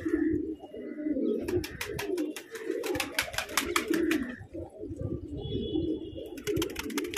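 Pigeons cooing in repeated soft throaty phrases, close and steady, mixed with high chirping from other birds in the background.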